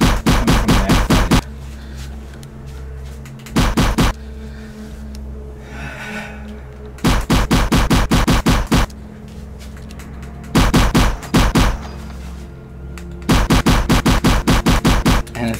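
Rapid automatic gunfire from shooting enemies in the Fovos VR game comes in loud, close bursts of dense shots. The bursts are separated by short quieter stretches of ambient game noise.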